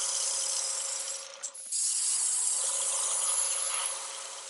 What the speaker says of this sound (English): when you're spraying it on top, some of the sides are going to get that secondary spray